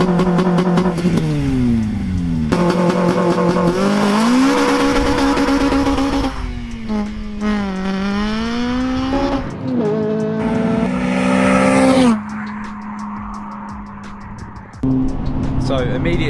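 A Honda Civic FN2 Type R with a louder Integra exhaust is heard from inside the cabin, its engine droning and climbing through repeated revs and gear changes. The engine stays loud and close throughout, with people talking over it.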